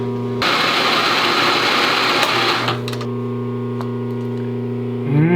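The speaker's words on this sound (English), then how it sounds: "going to touch off with a 1/2 inch mill, and I'm just going to clean this up, square it all up" Milling machine with a half-inch end mill squaring up a metal part, a loud steady motor whine with cutting chatter that eases after a few seconds, then a brief rise near the end.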